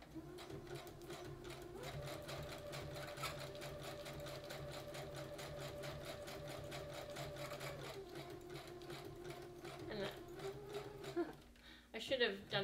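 A domestic sewing machine runs steadily, stitching lace onto a junk journal cover with a long stitch length, with a whirring hum and a rapid needle rhythm that continues for several seconds before stopping near the end.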